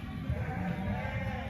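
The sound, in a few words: sheep bleating, cross ewes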